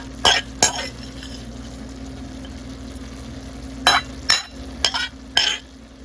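Meat goes back into a hot pan for egg roll in a bowl, with a low background sizzle broken by several sharp spatula scrapes and clatters in quick bursts, close and moderately loud.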